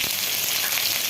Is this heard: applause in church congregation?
no